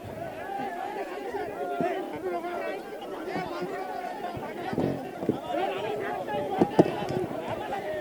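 A dense crowd murmurs and shouts at a Maharashtra Kesari wrestling arena, steady babble with scattered louder calls and sharp knocks, and an amplified announcer's voice addressing the crowd over it.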